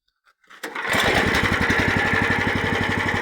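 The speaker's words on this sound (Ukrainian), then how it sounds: "будемо пробувати, як себе зарекомендує даний двигун від мотоблока" A wood chip cutter powered by a 13 hp walk-behind tractor engine sputters to life and settles into a loud, rapid, steady chugging run close by.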